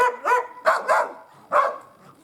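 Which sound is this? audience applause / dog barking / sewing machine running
dog barking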